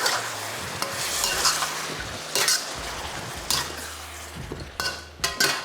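Cashews get stirred into a sizzling Thai cashew chicken stir fry, with spatula scrapes and clinks against the pan rising in bursts over a constant frying hiss.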